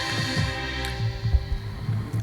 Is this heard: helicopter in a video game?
no